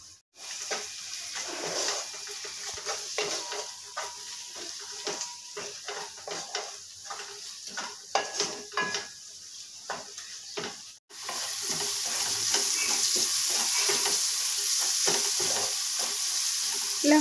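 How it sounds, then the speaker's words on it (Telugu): Tomato pieces fry in a pan with chilli powder, salt and coriander powder, crackling and sizzling while a spoon scrapes and stirs in irregular strokes, and the frying grows louder and steadier near the end. "ఇలా ఫ్రై అయ్యేదాకా ఉండాలి టొమాటో ముక్కలంతా"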